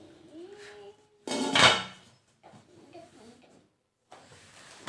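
A handi-shaped kadai pot and its lid being handled, a loud metallic clank and scrape followed by softer knocks and a final clatter, with someone talking between.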